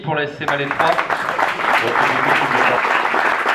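Audience applause breaks out for the organiser at a cycling race ceremony in Missiriac, dense steady clapping filling the room after a brief spoken line.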